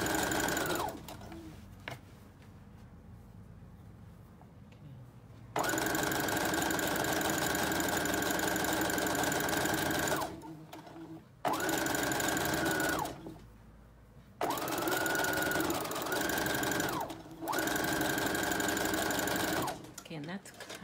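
A sewing machine stitches knit fabric for a kids' cape in long steady runs with short pauses between, its motor whirring loudly and evenly, with a voice talking in the gaps.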